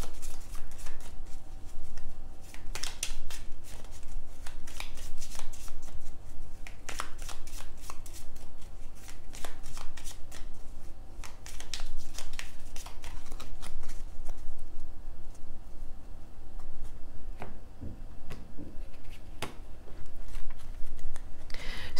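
Tarot cards are shuffled and handled across a table in a steady run of soft papery slides, flicks and small taps, close and fairly quiet, with no talking.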